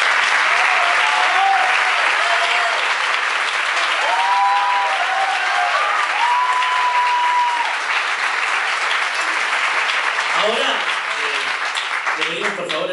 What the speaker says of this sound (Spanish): así que otro aplauso grande.